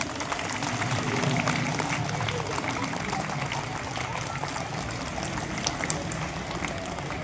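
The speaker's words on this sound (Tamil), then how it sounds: "அதுக்கு ஒரு பெரிய கைத்தட்டல்." Large audience clapping at a school inauguration of an RO water purification system, a dense, steady wash of applause lasting throughout without a break.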